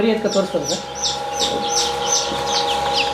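Native country chickens cluck and chirp in a rapid, repeated series, close by, over a steady machine hum in the background.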